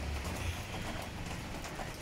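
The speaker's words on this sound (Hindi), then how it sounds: "अभी भी बारिश गिर रही है" Rain keeps falling steadily in an outdoor street setting, a soft, even hiss with faint patter and no voices.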